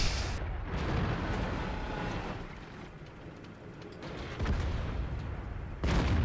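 Tank cannon fire and explosions from a French BatChat tank battle in World of Tanks, a loud, dense rumble of booming blasts with sharp bursts near the start and end.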